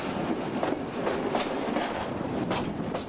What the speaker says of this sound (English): the train crosses over to diverge from the Bucharest mainline to the Giurgiu branch